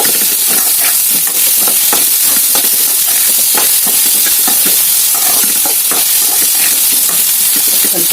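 Vegetable pieces stir-fried in a hot pan, a loud continuous sizzle and hiss with repeated scraping and tossing strokes, close up.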